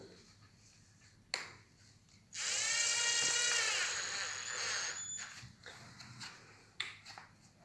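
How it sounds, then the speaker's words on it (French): A power drill with a bit fitted in its chuck bores the first hole into a wall, a loud steady whine lasting about three seconds before tapering off, with quieter clicks and handling noises around it. "Donc vous venez percer le premier trou"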